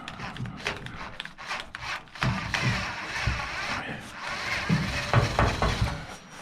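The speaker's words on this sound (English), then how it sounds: "So we're going to take out these 2 screws." Turntable screws coming out of a microwave under an electric screwdriver on a weak, low battery: a rough grinding and rubbing drive noise with knocks and scrapes against the oven floor, close up and steady for several seconds.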